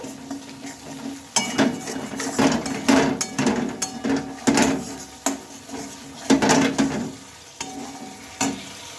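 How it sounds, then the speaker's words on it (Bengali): A spoon stirs ground spices and turmeric in a cooking pan for khichuri, giving repeated scraping strokes and soft sizzling in uneven bursts, close and fairly loud, with no talking. "মশলার মধ্যে এখন দিয়ে নেবো কিছুটা পরিমাণ হলুদ এই মশলাটা ভালোভাবে আমি নেড়ে চেড়ে নিচ্ছি দেখো"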